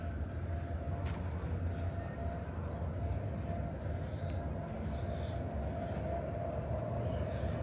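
A train runs across the Jamuna railway bridge in Sirajganj, Bangladesh, producing a continuous, even rumble at moderate distance. The sound holds steady throughout, with a few faint clanks and no clear speech.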